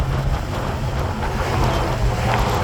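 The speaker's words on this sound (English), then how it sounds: "It's got a lovely exhaust note out the back." A 1964 Ford Thunderbird California Speedster convertible drives along a road, its exhaust giving a steady low rumble from the rear, mixed with heavy wind buffeting against the microphone.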